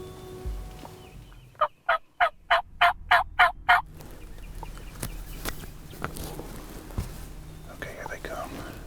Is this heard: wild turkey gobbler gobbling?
yes